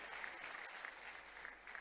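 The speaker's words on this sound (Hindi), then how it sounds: "जरा ताली वाली बजवा दो सबके लिए" An audience claps at a regional industry conclave in Rewa, a sustained, even roll of crowd applause at moderate distance, with a faint voice now and then beneath it.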